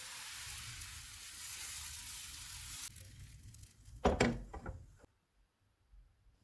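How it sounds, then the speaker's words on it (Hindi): Batter poured into a hot oiled frying pan on a medium-low flame, giving a soft steady sizzle, then a few brief scraping and knocking sounds as it is spread before the noise falls almost silent. "इसमें थोड़ा सा बैटर डालेंगे और फैला लेंगे।"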